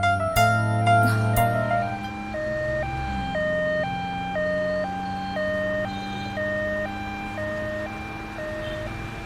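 An ambulance siren wails in a steady two-tone alternating pattern, loud and close throughout with no voices over it, after a brief burst of other tones at the start.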